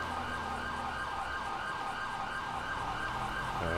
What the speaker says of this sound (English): Sounds like the ambulance is on the beach somewhere